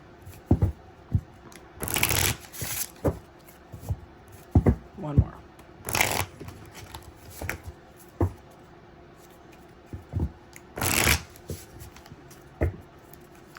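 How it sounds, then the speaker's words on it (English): A deck of cards, likely tarot cards, gets a quick shuffle up close, with bursts of riffling and soft slaps and taps in between, while a voice speaks briefly. "Let me give it a quick shuffle"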